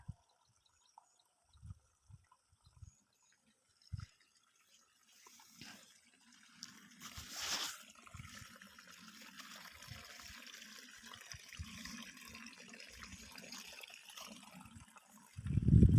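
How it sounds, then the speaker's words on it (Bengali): Irrigation water runs through a potato field by a pond bank, a soft, steady rushing flow that rises after a few scattered thumps and holds faintly in the open air, with a louder knock at the end. "জল পাওয়ানো হচ্ছে, জল যাচ্ছে, এই জল চলে যাচ্ছে।"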